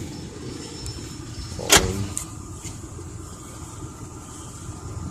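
A 2001 Ford Explorer Sport engine idles as a low, steady rumble throughout, with one sharp click or knock near the middle and no talking.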